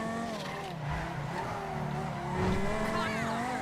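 Bravado Banshee GTS sports car in GTA Online weaving through tight city turns and traffic, its engine note rising and falling with brief tire squeal as it corners, a steady close roar with a voice talking over it.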